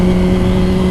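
A 2015 Yamaha R3 motorcycle engine held at high revs around 6,000 rpm while riding, a loud, close, steady droning whine over a brief moment.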